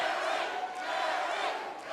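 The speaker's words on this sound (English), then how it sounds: "Listen to this crowd." Arena crowd at an LFA MMA bout between Derrick Lewis and Ricky Shivers roars and cheers in a dense, steady wall of noise that stays loud for the whole stretch.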